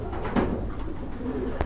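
A pair of satin pigeons cooing nearby, soft low throaty calls repeating over a faint background hum.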